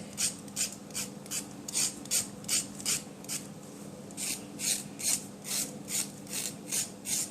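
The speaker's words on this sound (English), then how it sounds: "Let's use the point of the knife to scrape it." A knife point scrapes carrot skin in quick, steady rasping strokes, about a dozen close, loud scrapes in even rhythm with no talking.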